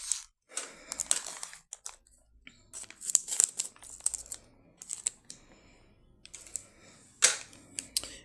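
A plastic bag is cut open while unboxing a Magic Mixies Pixling toy, with irregular crinkling, snipping and rustling bursts spread across the clip, close and moderately loud.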